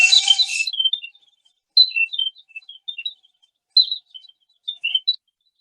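A Rougier mechanical singing bird box automaton with an enamel lid whistles bursts of high, chirping birdsong in short repeated phrases separated by pauses, following a brief louder rattle at the start; heard close and alone.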